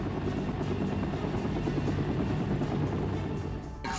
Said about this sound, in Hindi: लेटेस्ट वीडियो में यूक्रेन के Mi-8 हेलीकॉप्टर्स एक्शन में दिखाई दिए